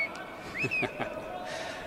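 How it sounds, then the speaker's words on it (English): Short rising and falling whistles ring out during a curling shot at a men's tour event, a quick series of signals with faint arena noise and voices around them. "just has a series of whistles"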